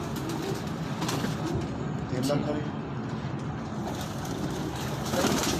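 Shirazi pigeons cooing in Multan, soft repeated coos under steady background noise with people talking nearby throughout.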